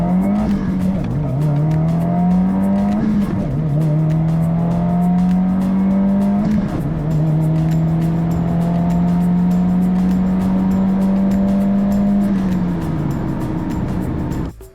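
A 2022 Subaru WRX accelerates hard through a third-gear pull, its engine note climbing steadily and loud from inside the car, with a brief dip where the rise restarts before it winds down at the end.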